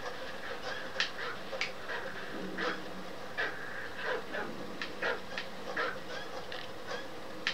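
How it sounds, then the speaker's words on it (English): Enemy attack dogs in the game Modern Warfare 3 pant, whimper and yelp in short scattered bursts, faint and a little distant, over a steady wash of background game noise. "Enemy attack dogs near your position."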